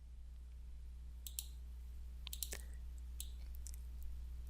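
Computer mouse clicks during software setup, a handful of sharp, isolated clicks spaced irregularly over a faint low background hum, close and quiet.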